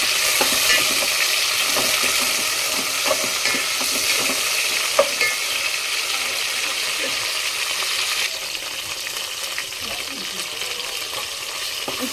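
Green chilies, mint and ginger paste frying in a pan while being stirred make a loud, close, continuous sizzle, with scraping stir strokes and a faint clink now and then, steady throughout without talk.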